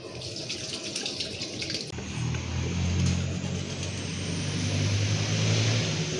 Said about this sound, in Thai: เดี๋ยวเรามาล้างมือก่อนนะ